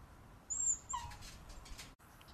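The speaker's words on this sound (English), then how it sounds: "He's whining because the ball is on the table" A Jack Russell terrier gives two thin, high whines close by, wanting a ball left on a table, followed by quieter whimpering and shuffling.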